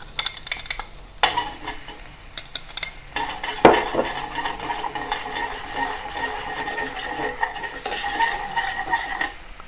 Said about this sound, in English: Add the chopped onion to the oil after frying the chicken.